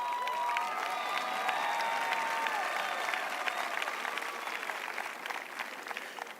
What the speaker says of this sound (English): You guys deserve a better applause.